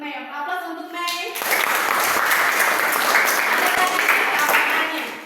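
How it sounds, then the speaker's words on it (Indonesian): Students clapping in a school science classroom, a dense burst of applause starting abruptly after some faint voices and holding steady, loud and close, for several seconds. "Aplaus untuk Mei."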